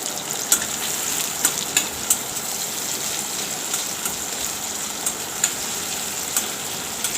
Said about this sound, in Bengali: শুকনো লঙ্কা আর পেঁয়াজ টমেটো ভালো করে ভাজা হচ্ছে।